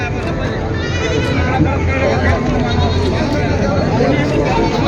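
Local village goats bleating repeatedly at a crowded goat market in Purna, Parbhani, with constant crowd chatter and voices underneath, loud and close throughout.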